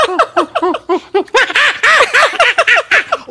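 A voice imitates a monkey with rapid, high, whooping chatter in quick bursts, loud and close, on a children's television show.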